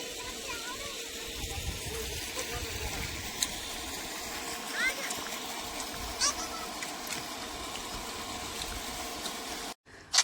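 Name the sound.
irrigation water running off a field toward a canal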